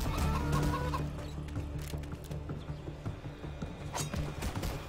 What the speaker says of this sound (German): Ah, Hühner.